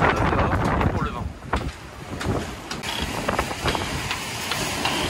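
Gusty wind buffets outdoors on a sailing boat between São Nicolau and Santa Luzia, rushing and flapping unevenly, with a person speaking over it.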